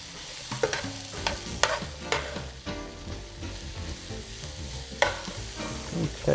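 Rough-cut vegetables and garlic sizzling in a pan, a steady close frying hiss broken by repeated clacking stirs and scrapes.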